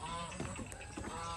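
Farm geese honk in a short, close burst of nasal calls against a noisy outdoor background.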